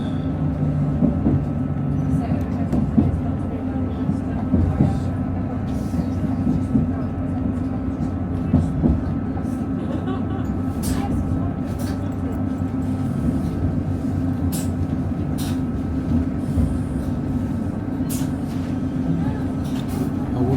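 Steady low rumble and drone of a train running on the Dales Rail line near Bentham and Clapham, heard from inside with continuous engine and wheel noise, occasional clicks and knocks, and someone speaking over it.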